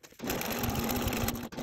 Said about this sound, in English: When transitioning from pocket openings, I want to make sure to backstitch well over each of those edges.